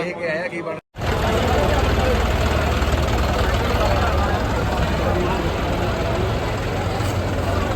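A tractor engine idles steadily at a farm machinery delivery event where farmers collect potato-handling machines, with a loud, continuous low rumble that resumes after a brief break at the start.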